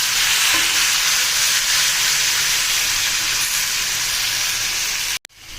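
Tomatoes fry loudly over browned onions for a pangas fish chutney, a thick steady sizzle close up that cuts off abruptly near the end.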